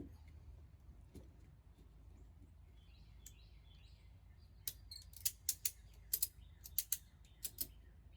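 Ratchet tightening a paintless dent repair puller on a door panel with glue tabs: a quiet start, then a string of sharp, close clicks in uneven bursts over the second half, no talking.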